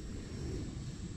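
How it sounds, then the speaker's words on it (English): A Turbo Timber Evolution RC airplane with an electric motor on a 4S battery drones steadily overhead, a continuous buzzing hum with no talk. "Beautifully flying plane."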